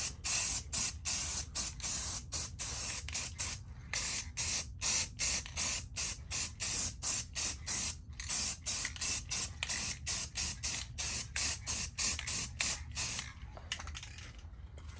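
A first coat of black spray paint goes onto a Terminator Cobra wheel with its valve stem taped, in a carport: about two dozen short, evenly spaced hissing bursts, close and loud, with brief gaps between them.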